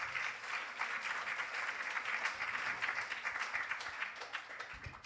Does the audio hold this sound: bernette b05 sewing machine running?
no